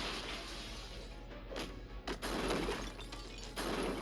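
A Shatter ability effect in the puzzle game Marvel Puzzle Quest gives a dense, crunching, glassy crash sound. It sustains over a steady low hum, with a few brief dips and renewed surges.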